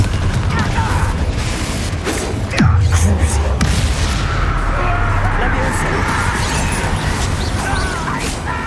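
A Confringo blasting spell explodes in Hogwarts Legacy, a single loud, sharp blast with a low booming tail that rises over a steady bed of game music and ambience.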